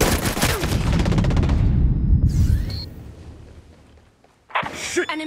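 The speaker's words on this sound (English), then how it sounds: "I hear gunfire." Sustained automatic gunfire in the tactical shooter Ghost Recon Breakpoint, a loud rapid burst of shots lasting a few seconds and tapering off, then a brief quieter pause before a sharp blast and radio-style game voices.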